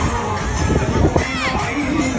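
A large crowd fills the streets of Gaza, a dense continuous babble of many voices with shouts rising above it, steady and fairly loud throughout.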